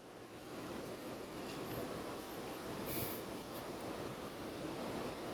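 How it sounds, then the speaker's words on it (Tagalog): Steady, roaring wind buffets the microphone continuously, a dense broadband rush with no speech and slight surges in strength. "Lakas ng hatak ng hangin langga"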